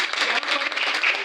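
An audience at a direct selling industry event in Kanpur breaks into brief, brisk applause, a dense burst of clapping filling the room without speech.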